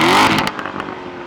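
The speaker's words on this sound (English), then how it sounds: "This is the loudest, lowest restriction exhaust mode there is." A 2014 Chevrolet Corvette Stingray Z51 in race exhaust mode, its engine note loud at the start with a rising rev, then easing off into a quieter, fading rumble with a few sharp crackles.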